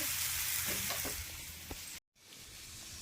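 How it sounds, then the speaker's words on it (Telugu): Tempering for a mango pickle sizzles in a pan, a close crackling hiss with small pops that cuts off abruptly, then returns more faintly. "మళ్ళీ తాలింపు పెట్టానండి"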